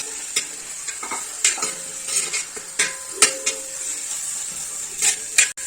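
Onion, ginger, garlic and green chilies sizzle in a pan while a utensil stirs them, giving repeated scraping clinks against the metal over a steady frying hiss.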